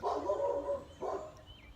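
Two loud, close dog barks about a second apart, each a short rough burst, with a faint high whine trailing at the end.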